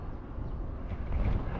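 Wind buffeting the microphone during a bicycle ride on a Brompton through open fields in Japan, a steady low rumble and roar with no talking, strengthening briefly toward the end.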